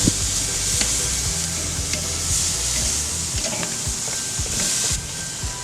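Meat sizzling hot in a pan, basted with a butter and beer marinade at barbecue; a steady close crackling fry with bursts of hiss and occasional utensil clicks, no talk.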